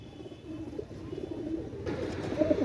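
A pair of black-tailed fancy pigeons of a Pakistani breed coo softly and steadily at close range, low rolling calls that carry through the whole short stretch with no talking.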